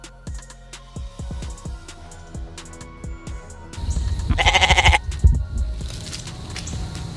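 A goat bleats loudly several times in a rapid, wavering series, close and clear, following a run of sharp knocks and rustles, presented as the example animal sound for a German vocabulary word.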